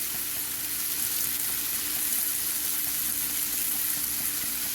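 Onion and tomato fry in a little oil for Mumbai street-style anda bhurji, giving a steady, close sizzle with faint stirring scrapes throughout and no talking.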